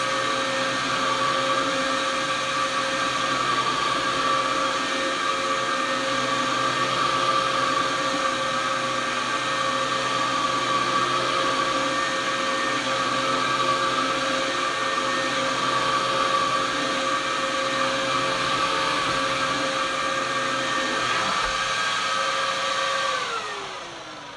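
A reconditioned upright vacuum cleaner runs steadily with a loud, constant motor whine and a rough, noisy brush roll clutch, droning alone with no talk before winding down at the very end.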